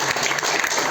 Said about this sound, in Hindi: मैं तो इनके लिए एक बार बहुत जोर से ताली बजाने के लिए कहूँगा